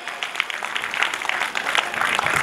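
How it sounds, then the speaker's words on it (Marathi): An audience at a Raksha Bandhan celebration claps loudly and steadily, a dense, continuous patter of many hands that stays even throughout, with no voices over it. "व्यक्त करतो आणि एकदा जोरदार टाळ्या।"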